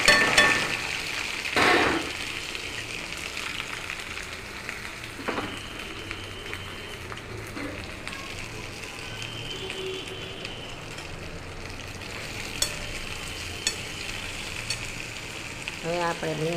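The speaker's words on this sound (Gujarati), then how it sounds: "હવે આપણે તેલમાં ભીંડો નાખી દઈશું।" Okra (bhinda) frying in hot oil for a Gujarati bhinda dungri nu shaak, a steady close sizzle lasting throughout with a few spoon stirs and clinks against the pan.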